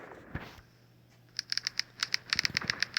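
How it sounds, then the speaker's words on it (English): Rain from rain clouds in the game WorldBox patters as a quick run of light, sharp ticking taps, starting after a quiet stretch and growing denser, fairly close and with no talk. "Put some rain clouds, that way all the places get wet."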